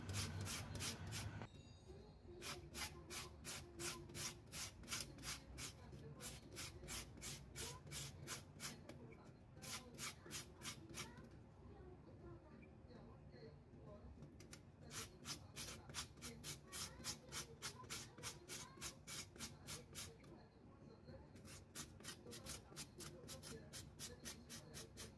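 Carrots and zucchini are grated by hand, giving soft repeated rasping strokes in quick bursts with short pauses between them, close and fairly quiet.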